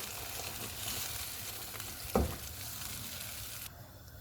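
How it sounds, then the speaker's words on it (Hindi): Chickpeas are stirred in a sizzling pan of spices for chole, a continuous frying hiss with one sharp clank of a spoon partway through, then fading as the heat drops. "इनको मिक्स करेंगे।"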